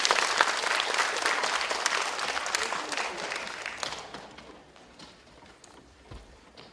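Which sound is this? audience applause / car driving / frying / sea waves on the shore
audience applause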